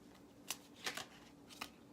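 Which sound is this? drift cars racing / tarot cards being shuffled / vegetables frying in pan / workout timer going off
tarot cards being shuffled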